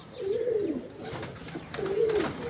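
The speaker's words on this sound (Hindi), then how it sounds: "ये मेरे सारे कबूतर ऐसा ऐसा बाहर आ रहे हैं" Pet pigeons cooing as they come out in the morning, two soft, rolling coos close by, spaced about two seconds apart over faint background noise.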